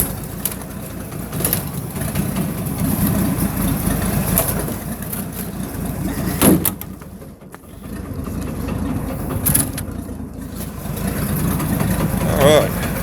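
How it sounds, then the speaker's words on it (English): The engine of a 1968 Ford Boyertown van idles in first gear with the drive shaft turning and running jerkily. A steady, fairly loud rumble is broken by a few sharp clunks and one brief dip. "got a running engine, turning drive shaft, turning wheel."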